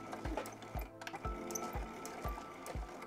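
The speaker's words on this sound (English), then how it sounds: "I'm going to sew with about a 1/4 inch seam allowance," A sewing machine stitches the long edges of fabric triangles for a zipper bag, its needle thumping in a steady rhythm of about two strokes per second, close and moderately quiet with a faint mechanical whir.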